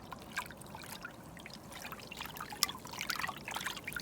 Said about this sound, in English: Always agitate your bath, get things really mixed up in there.